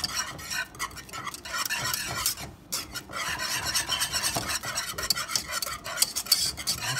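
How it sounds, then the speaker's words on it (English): Whisk scraping and rasping steadily around a bowl of cake batter for a strawberry cassata cake, a busy, continuous clatter close by with a brief pause near the middle. "I'm gonna keep on whisking that because I need it smooth."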